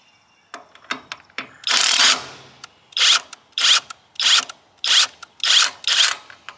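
A cordless OLMLMO 1/2-inch drive impact wrench rated at 800 ft-lbs runs clockwise, with a few quick trigger taps, then one longer burst, then a series of six evenly spaced hammering bursts up close.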